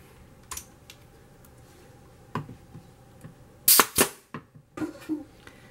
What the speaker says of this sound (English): I've just stapled it all the way in as tight as I can